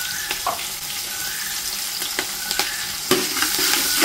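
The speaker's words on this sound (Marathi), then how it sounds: "नंतर कढीपत्ता घालायचा आणि फोडणी छान लालसर होईपर्यंत परतत राहायची." Onion, green chilli and curry leaves frying in a hot tempering for a kanda lasun chivda, giving a steady close sizzle with a few sharp stirring clinks against the pan and no talking.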